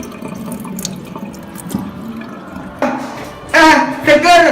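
A kitchen tap turned on to fill a glass for a drink, water gushing loudly into a sink in bursts after quieter room noise with children's voices in the background.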